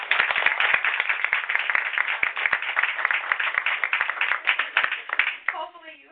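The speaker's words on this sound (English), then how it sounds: "Let's please give them a round of applause." Sustained applause from an audience, dense clapping throughout that thins out in the last second.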